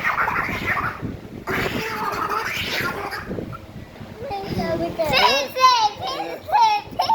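A man imitates a cat, producing rising and falling meow-like cries in the latter half, loud and close, following stretches of ordinary talk with children's voices around.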